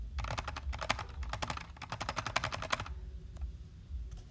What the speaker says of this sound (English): you want to do the keyboard sound